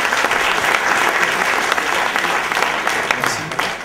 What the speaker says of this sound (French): Bravo à Conviction, on peut les applaudir.